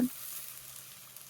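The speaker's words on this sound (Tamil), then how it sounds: "1 நிமிஷம் போல் வதக்கி கொடுங்க." Steady, close sizzling of onions sautéing in hot oil for vegetable pulao, a continuous crackling hiss with no talking.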